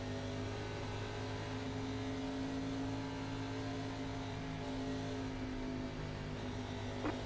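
Stock car engine in the iRacing game during a no-plate superspeedway Cup race, holding a steady high drone with a rising tone as it accelerates, loud and continuous with no talk.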